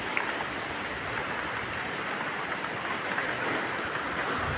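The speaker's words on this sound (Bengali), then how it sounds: "বৃষ্টিতে আমি বাইরে দাঁড়িয়ে আছি, বৃষ্টির মধ্যে দাঁড়িয়ে আছি, মানে খুব জোরে বৃষ্টি পড়ছে না" Steady moderate rain falling outdoors during Cyclone Remal, a constant hissing wash of drops on surfaces with no talking, even and unbroken throughout.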